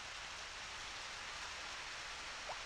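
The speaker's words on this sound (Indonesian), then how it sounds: "Kalau hujan emang kita cuma dengerin hujan doang." Steady rain in the Harvest Moon Back to Nature farming game, a constant even hiss of falling drops with no music, soft and continuous.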